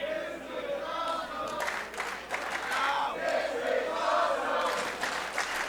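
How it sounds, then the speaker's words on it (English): A pro wrestling crowd at an indoor show cheers and chants for two wrestlers, a dense, rising roar of many voices with swelling shouts, heard a little distant. "The crowd giving it up for these 2 men and their show of athleticism and their show of heart."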